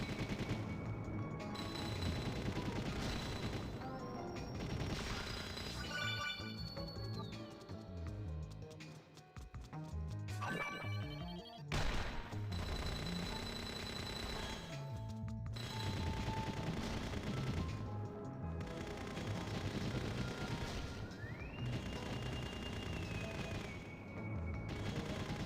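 Shooting in the video game Kid Icarus Uprising, with continuous rapid-fire shots and bursts layered over dense game music and effects that run for the whole stretch.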